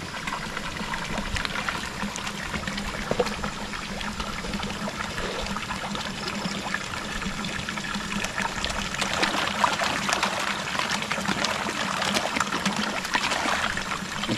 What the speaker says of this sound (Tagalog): Napakalinaw na po sa ating tubig dahil malakas yung ating source.